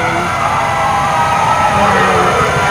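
A fire truck siren sounds from a Fire Prevention Month motorcade of fire trucks and ambulances in a Philippine town. The wail is loud and continuous over traffic rumble.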